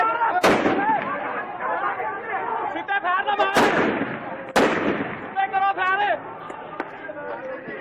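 Police fire gunshots: three sharp, loud cracks ring out a few seconds apart, over agitated crowd shouting and chatter that continues between the shots.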